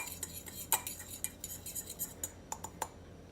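A utensil mixing venison jerky marinade in a bowl, giving a quiet run of light clinks and taps against the bowl at an irregular rhythm, close up with no talking.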